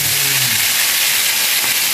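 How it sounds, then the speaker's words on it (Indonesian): Fish frying in hot oil gives a loud, steady close-up sizzle and hiss throughout. "Tengok, kena berbunyi minyak tu kalau kita goreng ikan."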